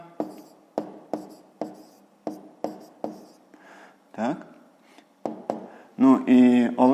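Handwriting with chalk or pen, a run of crisp regular taps and scratches close by, followed by brief voiced sounds near the end.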